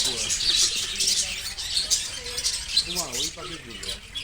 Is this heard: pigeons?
yes